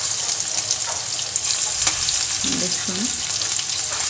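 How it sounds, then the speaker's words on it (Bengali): Marinated fish sizzles and crackles steadily in very hot, smoking oil, a loud continuous frying hiss with brief stirring sounds and a short spoken word. "তখন এই যে মাখিয়ে রেখেছিলাম সে মাছগুলোকে আমি ভাজবো।"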